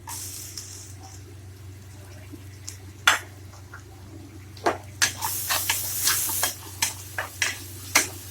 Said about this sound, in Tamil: இப்போ இந்த பூண்டை போட்டுடலாம்